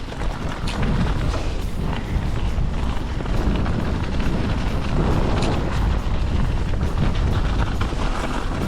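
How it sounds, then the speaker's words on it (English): Strong wind buffets the microphone in a continuous, loud roar with gusty low rumbling throughout. "Quite windy now as well."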